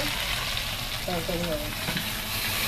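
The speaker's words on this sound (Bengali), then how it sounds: "তেলে মাছ ভাজা হবে" Fish, about 1.6 kg of rupchanda (pomfret), frying in hot oil for a thin curry, giving a steady close sizzle throughout with brief tonal sounds mixed in.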